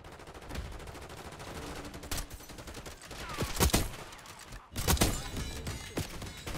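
LR bolt-action sniper rifle in Black Ops 6 fires amid game gunfire, with several loud sharp cracks and bursts over continuous battle noise.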